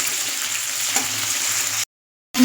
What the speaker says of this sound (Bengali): তাহলে বেগুনগুলো ভাজা হয়ে যাবে।